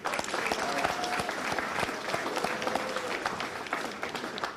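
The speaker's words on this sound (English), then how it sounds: "Let's give another round of applause for String Theory." Steady applause from a crowd, dense clapping sustained throughout at an even level.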